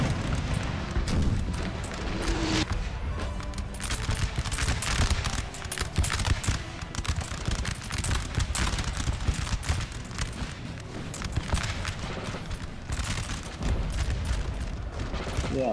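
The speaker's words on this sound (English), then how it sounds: "Priming the cannons." Napoleon: Total War battle with six-pounder cannons firing continuously, dense overlapping booms and crackling volleys forming a loud, unbroken barrage throughout.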